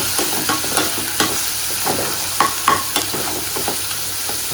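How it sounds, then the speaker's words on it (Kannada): Onion, garlic and ginger frying in a pan, a continuous loud close sizzle broken by repeated spoon scrapes and knocks at an uneven rhythm, no talk. "ಶುಂಠಿನ ಫ್ರೈ ಮಾಡ್ಕೊಳ್ತಾ ಇದ್ದೀನಿ"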